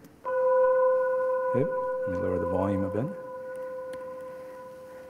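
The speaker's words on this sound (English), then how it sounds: "So this is the sound of the detector, hopefully." Several pure, steady tones from the vibrating glass fibers of a gravitational wave detector hum together without a break, while a person speaks briefly over them.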